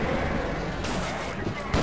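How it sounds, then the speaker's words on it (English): Grenade explosion in the Half-Life video game, a dense booming roar of blast and gunfire-like bursts filling the short span, loud and close, with a sharp jolt at the end. "And by strategy, I mean... lob a grenade!"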